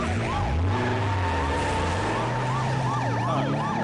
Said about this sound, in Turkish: Sirenini ve tepe lambasını çalıştırdı